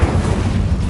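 An Incendio fire spell cast during combat in Hogwarts Legacy, a loud, dense burst of rushing, roaring flame that fills the whole second with steady low rumble.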